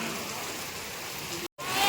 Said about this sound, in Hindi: बारिश और तेज हो गया।